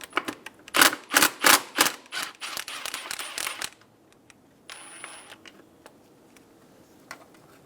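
Sharp metallic clicks and ratcheting from a 7mm socket wrench loosening the snow shield bolt on a 2000-2007 Ford Focus engine bay, a busy burst of close clicks for about four seconds, then quiet with a few isolated taps.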